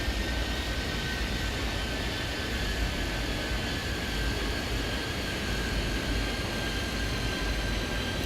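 Beechcraft aircraft taking off in the Airport Madness 3D video game, a steady broadband engine roar that holds at an even level throughout, with a thin high tone running across it and no voices.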